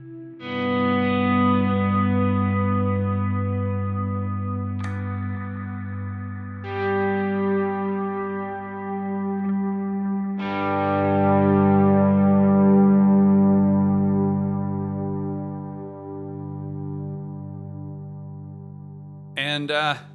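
Overdriven guitar chords through a Helix modeler, with gritty distortion and shimmering modulation effects, ringing out and changing several times, ending in a brief rattling burst.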